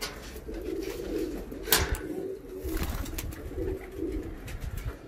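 Black Malwai bhavra pigeons coo in low, throaty murmurs, several birds nearby, with a brief sharp rustle partway through.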